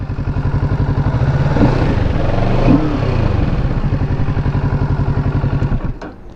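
A Kawasaki Ninja 650 idles with a steady, throbbing exhaust pulse heard up close and loud, swelling slightly mid-run before the engine note cuts off near the end.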